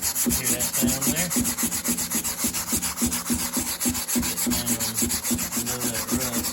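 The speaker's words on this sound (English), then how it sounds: "When you start sanding, you hear it rust." Close, rhythmic rasping as sandpaper works over the rusty metal of a 1960 Volkswagen Beetle gas tank, quick even strokes repeating steadily with a gritty, scratchy edge and no talking.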